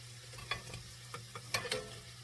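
Corn fritters in a hot cast-iron skillet giving a soft, faint sizzle, broken by a few quick clicks and scrapes from a utensil or the pan.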